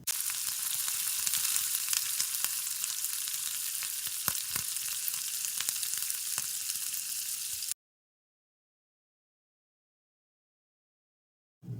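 Pasta cooks in a pan with tomato sauce and soy sauce, a steady close sizzle with occasional sharp clicks of stirring for several seconds before the sound cuts off to silence.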